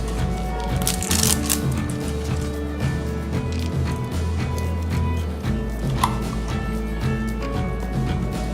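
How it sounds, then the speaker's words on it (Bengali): A box of Biomanix Plus capsules with polymer wrapping is opened by hand, making close, busy rustling and crinkling over a low steady hum. "আমি এই প্যাকেটটা কোটাটা খুলছি"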